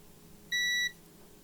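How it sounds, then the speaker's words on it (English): A single clear electronic beep of about a third of a second sounds from an HP Spectre 13 x360 laptop during troubleshooting, against a quiet background hum. "Beep mode is working."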